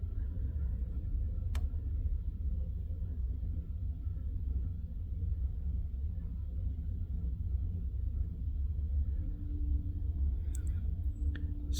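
A CN freight train led by locomotive 2811 rumbles at a distance, a steady low drone with no clear rise, heard alone apart from a couple of faint ticks.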